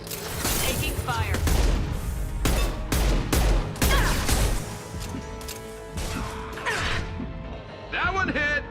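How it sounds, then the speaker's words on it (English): Gunfire in the Mass Effect 2 video game, with loud bursts of shots and sharp impacts in quick succession, interspersed with brief voices and effects. "Taking fire."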